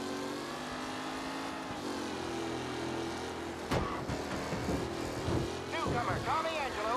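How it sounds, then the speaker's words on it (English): Damaged race car engine in Mafia Definitive Edition, droning and revving roughly with sputtering bursts during a race, while someone talks over it. "Well, the car engine is making some bad sounds."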